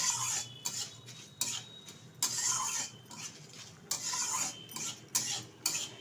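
Mung dal is dry-fried in a pan and stirred, with repeated scraping strokes of a metal spatula against the pan in an uneven rhythm, each stroke a short rasping burst.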